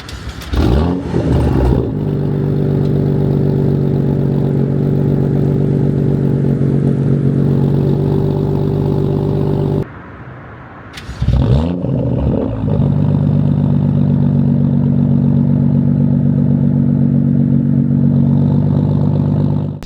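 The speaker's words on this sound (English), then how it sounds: "once in a while it's fun to kind of roll the windows down, even in winter, and just hear the exhaust" A loud BMW M2 (F87) exhaust with the M Performance exhaust open rumbles at a steady idle, then briefly cuts out before restarting with a sharp blip and settling back into a deep drone.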